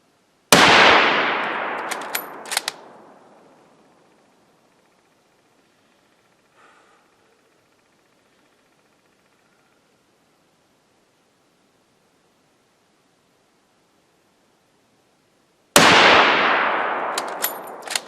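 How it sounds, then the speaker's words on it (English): A hot rifle fires prone from a supported position, two sharp, loud close shots with echoing decay, separated by a long quiet gap of about thirteen seconds. "shoot it one more time, 5 round cluster in the prone supported"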